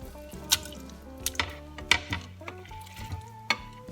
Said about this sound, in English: We're going to add in our beef.